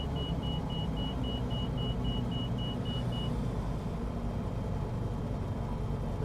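A Kitfox 2 light aircraft engine in the video game Microsoft Flight Simulator drones as a steady, low, even rumble, with a faint repeating beep tone over the first half.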